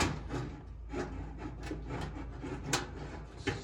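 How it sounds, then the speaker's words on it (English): Sheet metal top plate of a Maytag dryer being lifted off during a heating element repair, a close scraping, rubbing metallic rasp with repeated pulses and a couple of sharper knocks near the end. "Now we can remove the top plate here."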